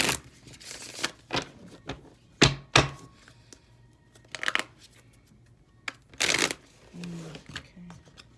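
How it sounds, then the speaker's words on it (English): Tarot cards shuffled in several separate bursts of riffling and soft slaps, fairly close and moderately loud against a quiet room, with a voice murmuring now and then between them. "if you get annoyed by my shuffling"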